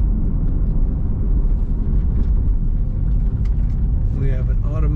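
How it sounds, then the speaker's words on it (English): A 2016 Chevrolet Corvette Z51 coupe drives along, its engine and road noise a steady loud rumble throughout, with a few faint higher tones creeping in near the end. "Today we're driving a 2016 Chevrolet Corvette"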